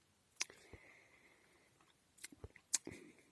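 Juniper berries being chewed, dry and slightly bitter, with a few faint crunchy bites and mouth clicks scattered close to the microphone and nothing else heard.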